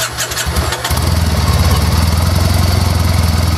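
A Triumph Bonneville motorcycle engine, fitted with a small LiFePO4 battery, cranks for a moment and then fires, settling into a loud, steady, rumbling idle close by.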